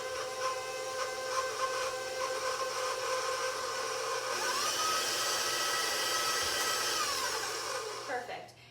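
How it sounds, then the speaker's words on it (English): Softened salted butter creamed in a stand mixer, a steady motor whir with a rhythmic beating tone that shifts pitch midway, then winds down at the end. "I'm gonna start to cream this in my mixer."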